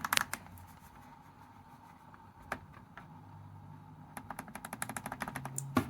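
Typing on a USB keyboard attached to a Sony Vaio VGN-BX393 laptop, a few isolated key clicks at first, then a quicker run of close, crisp taps toward the end.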